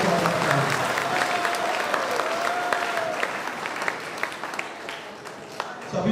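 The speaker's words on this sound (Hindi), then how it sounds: "तालियों के साथ इनका स्वागत करता हूं" An audience at a MAKA ITI convocation ceremony breaks into sustained applause to welcome a guest, dense clapping that stays strong and then gradually thins out toward the end.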